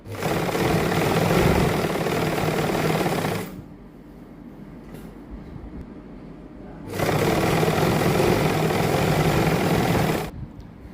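Electric sewing machine stitching a salwar seam in two long, steady, whirring bursts of loud stitching, separated by a quieter pause of low hum.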